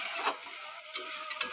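Fish curry with bitter gourd leaves bubbles on the stove as it is stirred, a few soft scraping strokes over a faint steady simmer, close and quiet.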